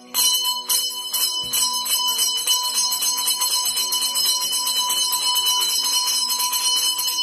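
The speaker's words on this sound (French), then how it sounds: "la cloche a sonné" Bell ringing in rapid, steady repeated strikes, bright and loud with long overlapping ringing tones, continuous and alone throughout.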